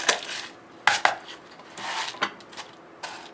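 Knife chopping homemade fake bake sprinkles on a board: a run of sharp, irregular close-up taps and thuds with short gaps, with no talking.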